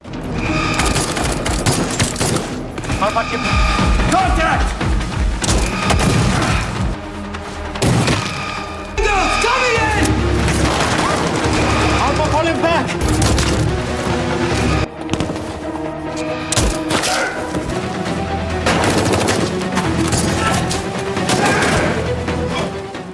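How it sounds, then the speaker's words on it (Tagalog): Intense gunfire erupts during a shooting mission in a video game, with dense bursts of shots, crashes and booms packed together over a loud, continuous soundtrack, briefly thinning in a few spots before surging again. "isang matinding putukan ang sumiklab"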